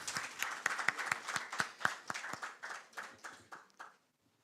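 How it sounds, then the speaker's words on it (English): Applause at a meeting where the Federation of Association of Ghanaian Exporters called on President Mahama: a small group clapping, quiet and fairly sparse, with distinct individual claps that thin out and stop, followed by brief silence. "Another round of applause,"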